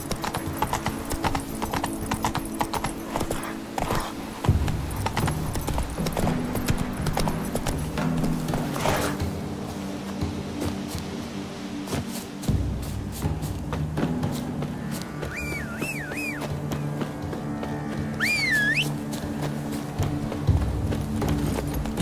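Horse hooves clip-clop steadily as a mount is ridden in a video game, a continuous rhythmic trot with occasional whinnies and game music underneath.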